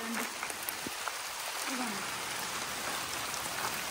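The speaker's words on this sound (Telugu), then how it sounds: "వర్షం చూడండి ఫుల్ వర్షం స్టార్ట్ అయింది" Heavy rain pours down on a farm, a dense, steady hiss of drops hitting leaves and ground that fills the whole stretch evenly and loudly.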